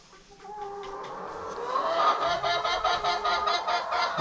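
Chickens on a small farm squawk and cluck together in a loud, dense racket, one hen's call rising over the flock as the noise swells midway and keeps going without pause.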